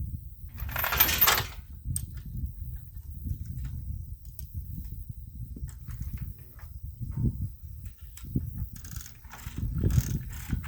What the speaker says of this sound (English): I know this is backwards for this chain hoist, but it's alright.